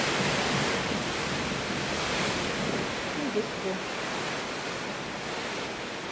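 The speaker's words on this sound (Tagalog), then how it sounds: "bugso-bugso ang lakas sa hangin guys." Strong gusty wind from Typhoon Tino roars as a dense, broad rush that buffets the microphone steadily, while a voice speaks briefly beneath it.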